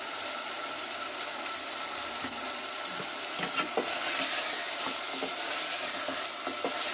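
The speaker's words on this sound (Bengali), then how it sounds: "আদা ও রসুন বাটা দিয়ে আবারও নেড়ে চেড়ে নিচ্ছি" Ginger garlic paste is stirred into country chicken frying in a pan, giving a steady close sizzle broken by scraping and clinking stirs from a spoon.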